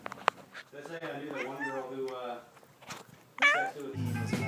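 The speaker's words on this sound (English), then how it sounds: "Here's a really cute cat." A cute cat meows several times, clear and close, with one drawn-out meow and a shorter, higher call near the end, followed by a brief low rumble.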